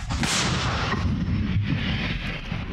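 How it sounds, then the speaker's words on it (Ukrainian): An artillery gun fires a single booming shot, and the blast rolls on as a long, loud rumble that fills the air and slowly fades outdoors. "Громада, постріл!"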